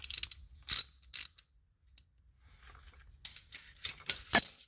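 A ratchet turning the drain bolt on a 2021 Nissan Murano CVT makes close, quiet clicking bursts, a few quick ratcheting strokes separated by pauses.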